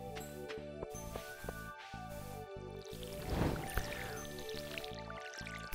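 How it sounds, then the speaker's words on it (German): Watering can being refilled with water in the Stardew Valley video game, a soft gurgling pour and splashing over steady game music, with no talking. "Gleich mal Wasser nachfüllen."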